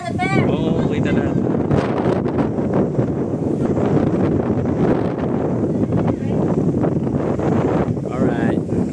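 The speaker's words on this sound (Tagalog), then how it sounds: "Sarap ng hangin." Steady wind buffeting the microphone on a roadside stop along a mountain road at KM 90 in Sta. Maria, Laguna, a loud continuous rumble that fills the whole stretch, with voices faintly underneath.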